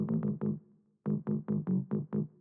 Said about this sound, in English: The second layer is an analog lab preset,